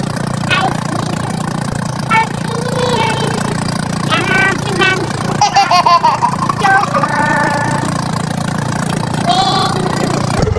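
A fishing boat's engine runs steadily and loudly close by, a low continuous drone under faint voices and laughter.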